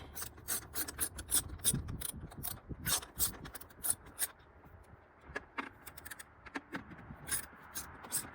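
A Nissan mount bolt being loosened with an 8mm socket: rapid, close ratcheting clicks mixed with gritty rubbing, repeating in quick strokes throughout.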